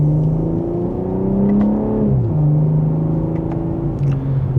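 A 2026 BMW M340i in sport mode, second gear, gives a short mild acceleration with a smooth rising engine and exhaust note, close and loud, with no talking.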